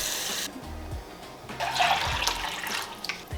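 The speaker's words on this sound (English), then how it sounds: "I've got almost 4 cups of water in here." Water pours steadily into a container for a vinegar pickle brine with sugar and salt, a close, bright rushing splash that starts after a brief pause and runs continuously to the end.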